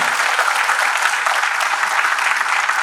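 Loud, dense applause from an audience at a felicitation function, a continuous wash of clapping that stays steady for the whole stretch with no speech over it.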